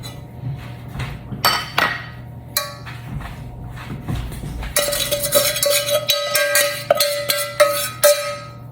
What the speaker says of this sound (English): scrape the bottom of my pan.